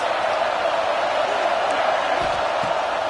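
Roaring stadium crowd at a football game, a dense steady wash of cheering and voices filling the clip without letup, loud and close.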